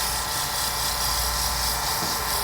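Pen-turning lathe spinning at about 1900 rpm during sanding, a steady high whine with a dense whirring hum, close and constant with no talk.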